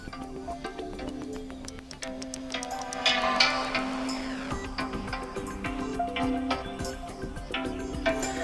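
Music with steady tones and layered instruments plays continuously from a Google Pixel 9 smartphone's stereo speakers, fairly loud, with no talking.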